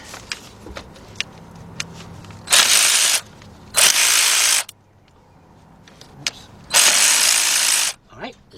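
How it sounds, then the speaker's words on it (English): On a 2004 Ford Expedition with the 4.6 engine, a ratchet on a 4-inch extension loosens a spark plug in three loud bursts of rapid clicking, separated by quiet pauses with small knocks and handling noises. "Get my ratchet."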